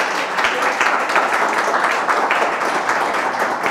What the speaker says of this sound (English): If we could have some applause for the country of America.